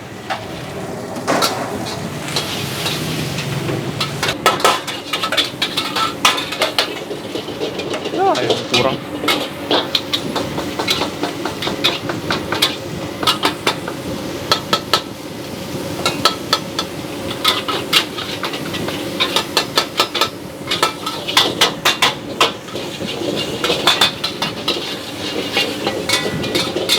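Noodles with chicken are stir-fried in a pan, with continuous scraping and rapid metallic clatter of a utensil against the pan under frequent kitchen chatter.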